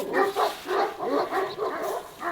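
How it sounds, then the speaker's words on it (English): Several dogs bark outdoors on an icy cold day, set off by dogs at a neighbouring place, giving a run of moderately loud, overlapping barks and yips at mid distance. "at the neighbor's place a few dogs are barking, and so those one here do the very same"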